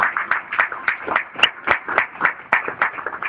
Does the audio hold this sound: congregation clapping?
yes